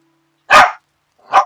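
Two sharp, loud dog barks close by, a short pause between them, with silence around them.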